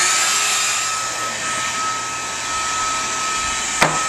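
Hot-air preheater on a plastic extruder welder blowing steadily, a loud continuous airy roar with a faint whine and one brief click near the end.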